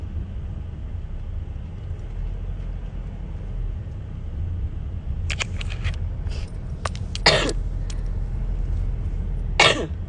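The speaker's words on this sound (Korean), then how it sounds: "자꾸 기침해서 죄송합니다, 여러분." A person coughs several times in a short, sharp cluster of bursts with a gap, and one more cough near the end, over a low steady background rumble.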